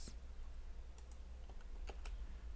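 A computer keyboard being typed on while coding: a few quick, light key clicks in short bursts, close and quiet, over a low steady hum with no talking.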